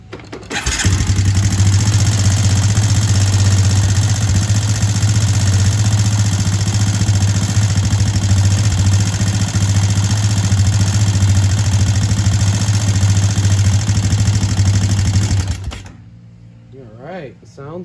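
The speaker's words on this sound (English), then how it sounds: "Let's fire it up. It's going to be a little ticky because everything's dry" A Honda Recon 250 ATV engine, freshly given a top end rebuild, fires up and runs at a steady loud idle for about fifteen seconds with a slight dry tick, then cuts off abruptly.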